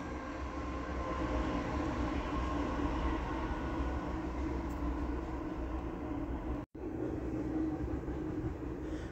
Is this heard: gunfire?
no